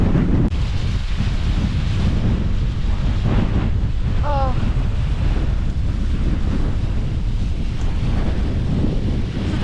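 Strong, steady wind roars across the microphone on a fell hike near waterfalls in the Lake District, loud and close throughout, with a brief exclamation from a person.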